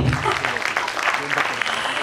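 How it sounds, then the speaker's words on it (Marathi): An audience at a networking gathering claps together in a dense, even burst of applause that lasts about two seconds, with some speech mixed in. "मग वाजवा टाळ्या स्वतःसाठी"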